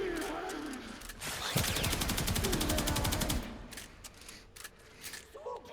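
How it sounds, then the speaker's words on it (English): Kuva Karak rifle gunfire in the Warframe video game, a rapid, evenly spaced stream of shots lasting about two seconds, then a few scattered clicks and softer game sounds. "I am just shooting him in the leg, to be fair"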